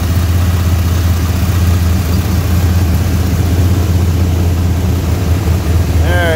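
A Pontiac's 467 cubic inch engine runs loud and rumbling close by, a deep steady roar throughout, with a brief rising whine near the end.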